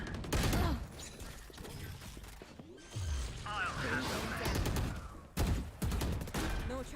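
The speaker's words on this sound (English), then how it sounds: "Lots of shots going off." Gunshots in a Valorant tournament match crack out in rapid clusters, loud and sharp, layered with game effects and a commentator's voice talking over the action.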